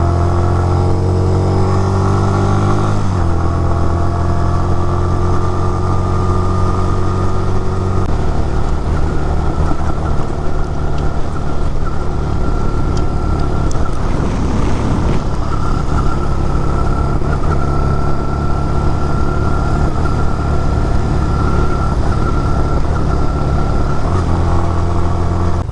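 A Honda Rebel 250 motorcycle engine runs steadily and loudly while riding, close up, its drone wavering slightly as it starts breaking up, with no talk over it.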